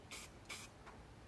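A spray paint can misting in two short hissing bursts close by, followed by a fainter third puff, in an otherwise quiet space.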